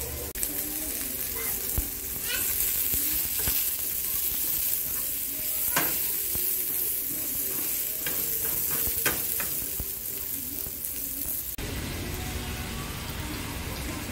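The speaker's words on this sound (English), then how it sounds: "I have my vegetables frying right now, or sauteing right now." Vegetables sauteing in a home kitchen pan, a continuous close sizzle with scattered crackles and occasional scraping stirs, fairly loud and without talk over it.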